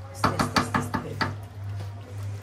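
A metal lid set down onto a pot of simmering beef rezala makes a quick run of five or six sharp clinking knocks, followed by a steady low hum from the stove.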